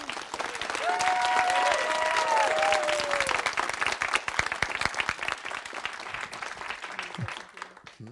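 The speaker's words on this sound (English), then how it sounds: "Can we please give a loud applause for all of our sister cities?" Warm applause from a community meeting audience honoring sister cities, steady and full for several seconds before thinning into scattered claps, with a voice and faint tones briefly over the start.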